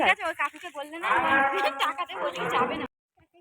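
Cows moo loudly and close by near a riverside field, with long drawn-out lowing calls that fill most of the clip before a sudden silence.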